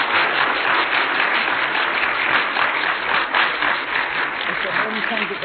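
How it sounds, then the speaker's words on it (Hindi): An audience at a spiritual gathering claps loudly and continuously for three honoured elder women, a thick, even roar of hands with a few voices mixed in. "हम सभी फिर से एक बार जोर से ताली बजाकर तीनों दादियों को"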